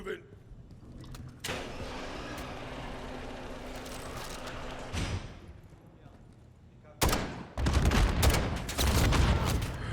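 Bursts of gunfire in Call of Duty: Modern Warfare III (2023) crackle over a steady rumble, with a quieter lull in between before sharp volleys return near the end.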